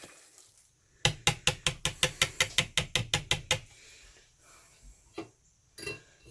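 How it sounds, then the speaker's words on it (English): A cheese mixture whisked briskly in a bowl: about a dozen sharp, evenly spaced clinking strokes in a fast rhythm, close and clear, then a few scattered taps and scrapes. "just in this cheese mixture. Whisk it good, whisk it good."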